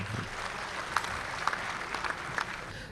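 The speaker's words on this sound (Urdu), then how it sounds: "کچھ تالیاں ان کے لیے بھی آپ بجا دیں" Audience applause at a 2008 Urdu mushaira poetry gathering, a moderate steady patter of clapping with a few sharper claps standing out, under light background murmur.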